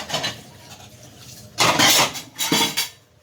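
Dishes are washed by hand, with plates, pots and cutlery clattering and clinking close by in short bursts, the clearest clatters coming in two loud clusters.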